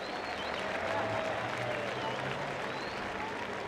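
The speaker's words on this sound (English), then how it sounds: "Round of applause for Matt Field" Spectators at a Formula DRIFT Long Beach competition applaud after a driver's crash, a moderate, distant-sounding crowd wash of clapping and noise that holds steady throughout.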